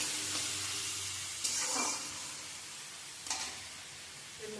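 Finely chopped onion sizzles in a pan while a spoon stirs it, a steady close hiss broken by a couple of brief scraping stirs, with no voices.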